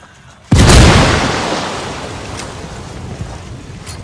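A frag grenade detonates in Ghost Recon Wildlands: one sudden loud, close blast after a quiet moment, followed by a long rumbling decay with faint debris and wind-like hiss.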